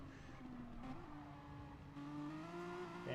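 A race car in a sim racing video game accelerates with boost down the back straight while sitting in a slipstream. The engine gives a steady, rising whine that climbs in pitch through the gears, fairly quiet, with no talking.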